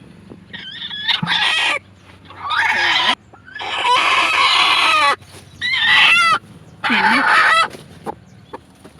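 A broody country hen sitting on eggs clucks and squawks close by in five loud, agitated bursts separated by short quiet gaps.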